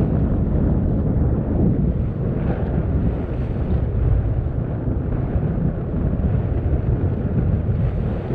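Strong wind buffets a sailboat heading out from Santa Lucia into the breeze, a continuous loud, low rushing roar with no pauses, likely mixed with water noise.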